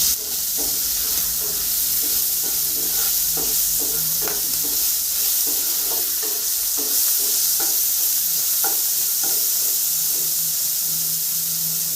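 Live shrimp fry in a hot wok with a loud, continuous sizzle and hiss, broken by repeated scraping and stirring strokes at an irregular rhythm, close and without talk.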